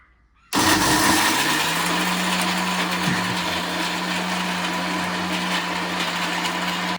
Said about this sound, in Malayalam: അപ്പൊ ഗൈസ് നമുക്ക് ഗ്രൈൻഡ് ചെയ്യാം.